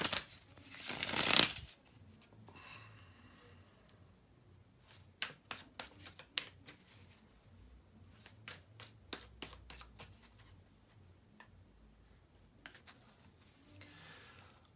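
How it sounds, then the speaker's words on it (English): Tarot cards are riffled briskly at first, then shuffled with soft, irregular slaps and flicks close by, followed by a brief rustle at the end. "bear with me a second, guys, to shuffle the tarot cards"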